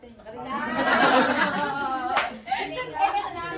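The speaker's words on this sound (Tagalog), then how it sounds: "palakpak na may sigaw na" Clapping from a crowd at an 81st birthday celebration, steady and continuous, with voices and a few shouts mixed in, fading a little toward the end.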